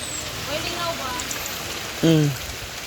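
Steady hiss of rain falling throughout, with people talking over it close by.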